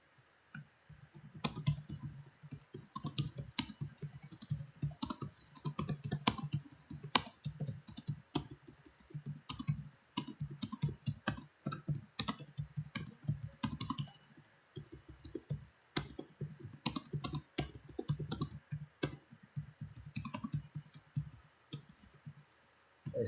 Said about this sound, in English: I'm kind of typing right now because people are having this discussion.